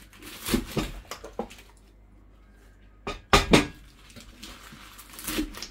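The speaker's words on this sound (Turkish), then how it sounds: "Ispanaklarımı da şöyle tahtamda doğruyorum." Kitchen knife chopping fresh spinach on a wooden cutting board at home, heard as bursts of close, crisp knocks and rustles with a quiet pause in between.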